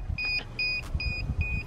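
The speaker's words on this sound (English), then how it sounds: "Why is it beeping?" A small drone emits repeated electronic beeps, four short paired tones at a steady rhythm, loud and close over low rumbling background noise.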